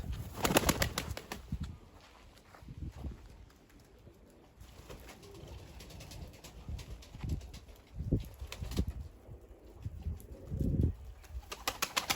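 Kama paça ala pigeons coo in low, throaty bursts at close range, with scattered rustling and shuffling between the calls.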